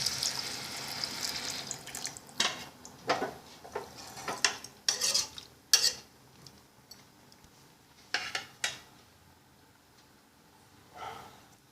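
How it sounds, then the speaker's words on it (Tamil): Water is poured into a metal cooking pot while making mint rice, with a hissing splash, followed by scattered clinks and clatter of cookware at close range. "நான் இப்போ தண்ணி விட்டுடுறேன்."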